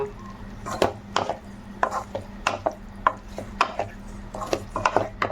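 A spoon scrapes and knocks around a pan of suvarotti gravy in irregular clattering strokes, over a low steady hum from the kitchen.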